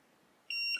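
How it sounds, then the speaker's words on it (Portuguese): A BSide U6 digital clamp multimeter gives one short, clear electronic beep lasting about a quarter second after near silence. "Ele está entendendo como um bip."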